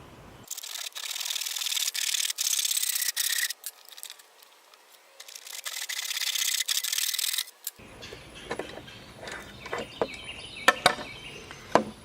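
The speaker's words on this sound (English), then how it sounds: "I'm going to cut halfway through this and then flip it around." Bursts of rasping sawing through a long plastic pipe clamped down, loud and close, with a pause and then scattered knocks and handling noises as the pipe is shifted.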